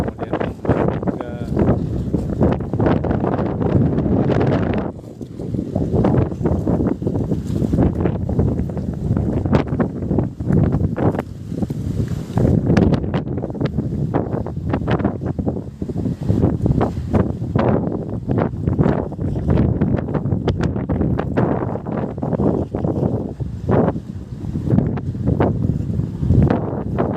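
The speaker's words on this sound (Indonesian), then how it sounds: "kondisi Parepare saat ini diterpa angin kencang, cukup kencang, kemudian ombak juga" Strong wind at Parepare harbor roars and buffets loudly in gusts against the microphone, with faint rustling and water or boat sounds beneath.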